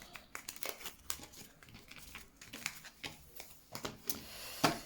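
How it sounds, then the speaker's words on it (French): Tarot cards are gathered up from a table in a run of soft, close crinkling and rustling handling noises with a few sharper flicks. The sound is fairly quiet throughout, and no one speaks. "Allez, je ramasse les cartes."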